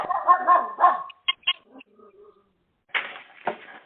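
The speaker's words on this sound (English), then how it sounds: "Sounds like someone's got a dog out there." A dog barking outside during a talk, a few sharp barks near the start followed by a pause and two more distant yelps near the end.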